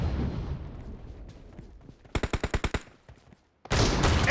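Shotgun fire in the battle royale game BGMI during a shotgun-only team deathmatch in a warehouse map: a fast burst of about seven sharp blasts, then a pause and a loud rush of gunfire noise closing it out.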